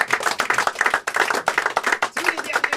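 An audience claps at a small theatre show, dense bursts of hand claps running steadily through the whole stretch, fairly close and lively.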